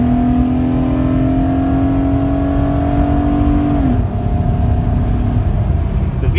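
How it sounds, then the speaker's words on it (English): Honda Pilot J35 V6 with its supercharger removed, running on a dyno: loud steady revving with a rising tone, a sharp change in pitch as VTEC engages, then the engine winds on hard. "VTEC crossover is pretty loud."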